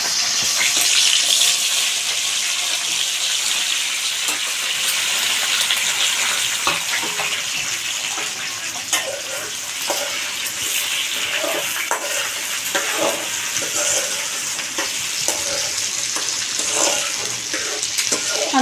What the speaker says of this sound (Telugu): ముందుగా కొంచెం ఆయిల్ అనేది వేసేసుకొని ఆయిల్ అనేది కొంచెం హీట్ ఎక్కిన తర్వాత అండి బెండకాయలు అనేవి వేసేసుకుందాం